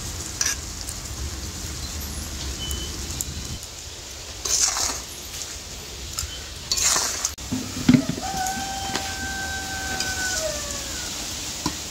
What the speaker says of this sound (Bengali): কড়াইতে চিনিটা দেওয়ার পর একটু নাড়াচাড়া করে আমগুলো দিল